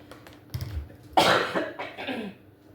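Two or three lingering post-illness coughs sound close by, one soft and then a louder harsh one followed by a shorter one, with a quiet room around them.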